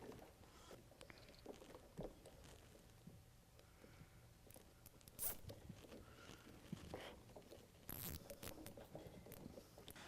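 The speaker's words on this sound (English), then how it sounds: "And then you can just zip tie that as well." A zip tie ratchets shut around wiring during a motorcycle audio kit install: quiet, rapid clicking bursts close by, with faint handling noise.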